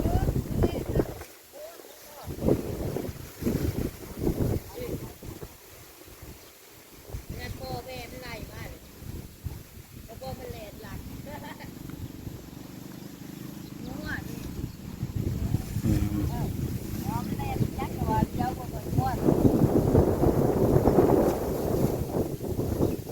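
Gusty wind blows across a rice field at harvest time, a rough, rushing roar that swells louder toward the end while people talk nearby throughout.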